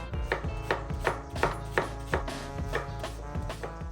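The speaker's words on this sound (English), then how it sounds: "I found the 2 largest sweet onions I could find and gave them a good slice" A knife slices through two large sweet onions on a board in a steady run of crisp, evenly spaced cuts, close and clear, with soft tonal music underneath.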